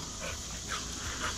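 A dog pants outdoors on a warm day of about 75 degrees, with soft rhythmic breaths and faint whimpers, close but quiet under steady background noise.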